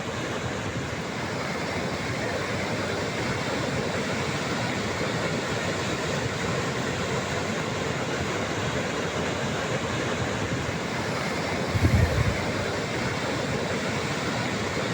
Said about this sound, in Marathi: नाशिकमध्ये सध्या गोदावरी नदीला पूर आलेला आहे